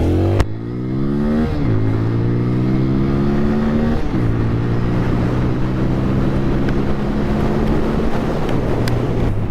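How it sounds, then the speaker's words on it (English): A TVS Apache RTR 200 4V motorcycle ridden in sports mode, its engine droning loud and close and stepping up in pitch through the gears in several rising sweeps, with steady wind rush and no talk. "So currently I'm riding the bike in sports mode, where it has highest power and least ABS intrusion."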